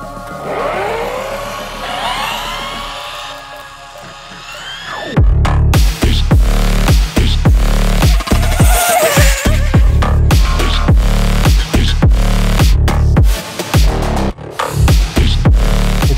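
An Arrma Limitless 8S RC car, gyro set to 30%, launching and accelerating at high speed: a whining electric drive begins, then loud choppy bursts of motor and rushing noise dominate, close and intense throughout.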